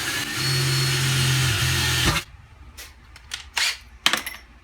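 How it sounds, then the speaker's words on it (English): A steady drill whine runs for about two seconds while boring a small hole in metal, then stops, followed by a few short clicks and knocks of handling. "Gonna go ahead and drill a small hole in there."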